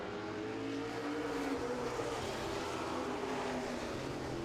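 Modified race cars roar around Owosso Speedway as one faint, steady engine drone that sounds distant and continuous, with no speech.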